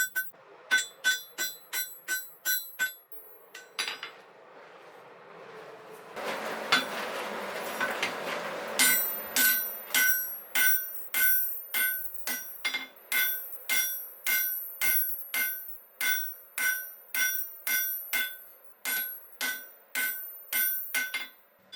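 A blacksmith hammers hot steel at the forge to shape an eye drift, giving sharp ringing hammer strikes in steady rhythmic bursts, close and clear, with a brief roaring pause between sets.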